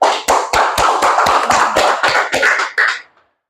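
Roughly a dozen sharp, evenly spaced claps ring out loud and close in a church gathering, then stop abruptly into silence.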